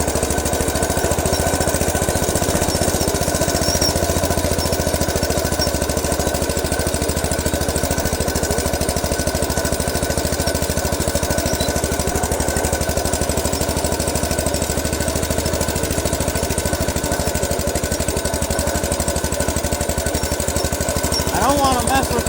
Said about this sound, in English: As you can see, it fires right up.